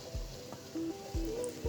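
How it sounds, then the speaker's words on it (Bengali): Spices frying in oil for a fish-head mung dal, a soft low sizzle broken by faint scraping stirs and light clinks, quiet and close. "সবগুলো একটু তেলের মধ্যে কষিয়ে নেব।"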